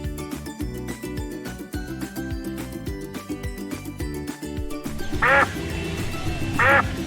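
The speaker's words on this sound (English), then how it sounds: "duck" A duck quacks twice, short and fairly clear, near the end of a stretch of upbeat children's background music, with no voices.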